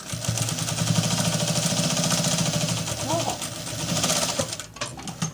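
A domestic sewing machine stitches steadily past a zipper, its rapid mechanical needle rhythm running close and continuous, slowing briefly near the end, with a voice talking over it.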